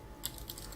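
A few quick keystrokes on a computer keyboard, faint and close, in short bursts with no other sound around them.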